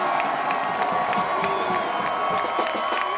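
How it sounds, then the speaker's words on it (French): Street crowd at the Fêtes de Bayonne night parade cheering, whooping and clapping for passing bandas, a steady, busy din with children's shouts and faint brass tones woven through. "Je crois qu'on peut les applaudir."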